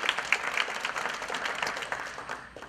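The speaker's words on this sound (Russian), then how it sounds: "Ваши аплодисменты, Роман." Audience at a Russian-language startup career talk applauds a speaker, a dense, steady burst of many hands clapping at moderate volume, tapering off toward the end.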